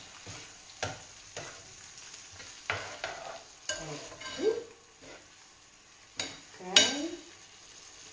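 Potato gnocchi are tossed and stirred with pea cream and guanciale in a hot pan, giving repeated bursts of sizzling and scraping about once a second, close by, with a brief word spoken.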